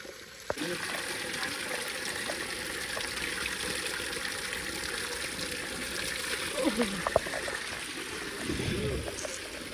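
Spring water runs in a steady, close rush of trickling and splashing that continues throughout, with people talking over it.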